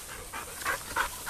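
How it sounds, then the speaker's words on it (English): An Australian cattle dog pants in short, rhythmic breaths close by, a steady string of quick huffs with no talking. "Pretzel's a purebred Australian cattle dog"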